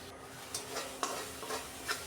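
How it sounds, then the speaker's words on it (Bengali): Masala for a rohu fish curry is stir-fried in a pan, giving a few soft scraping strokes of the spoon over a faint, low sizzle. "খুব সুন্দরভাবে কষিয়ে নিলাম মশলাটা"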